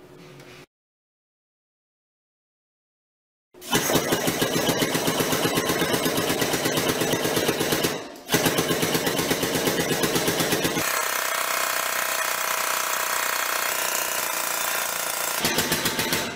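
A manual tube bender works 1¾-inch quarter-wall DOM tubing with a loud, steady, pulsing mechanical drone that starts after a pause, dips briefly once and then runs on.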